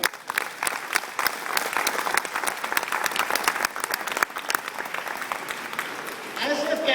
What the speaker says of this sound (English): I think they deserve a round of applause again.